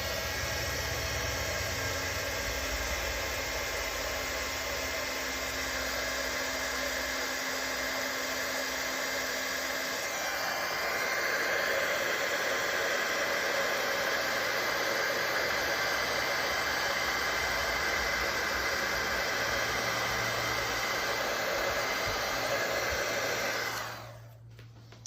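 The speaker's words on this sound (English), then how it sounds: "then we'll use the heat tool to melt this" A heat gun melting embossing powder for a fall home decor craft blows a steady, loud, hissing roar for about 24 seconds. It shifts slightly in tone partway through and then cuts off abruptly at the end.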